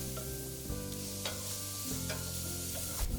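Snap peas with chopped fresh mint and lemon zest sizzling quietly in a pan while a spoon scrapes and stirs through them a few times, faint steady frying underneath.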